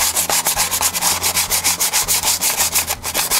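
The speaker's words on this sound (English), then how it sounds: "which is emery cloth, is a bit like sandpaper. You just basically rub over the edges." Emery cloth rubbed briskly over the edges of drum brake shoes, a close, loud, steady scraping in quick regular back-and-forth strokes, about a dozen passes with no voices.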